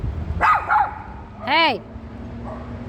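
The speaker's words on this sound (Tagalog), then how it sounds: "May aso doon." A dog named Brownie barks and yips in a few sharp bursts, with a rising, whining tone, close by on the way home, while a person calls out briefly.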